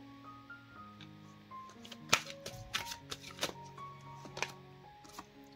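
Tarot cards shuffled by hand during a card reading: soft, quiet clusters of riffling and flicking bursts through the middle of the clip, under steady soft background music.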